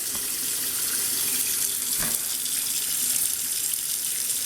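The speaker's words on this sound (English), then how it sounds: "I just put the water in and then let it drain out" Water runs from a faucet into a double sink to rinse a vinyl reborn doll, a steady close hiss with one brief knock partway through.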